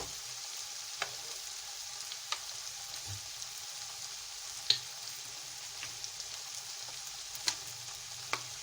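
Vegetables frying in a pan for a chicken and vegetable spaghetti, a steady close sizzle with scattered pops and light utensil clicks throughout, no talking.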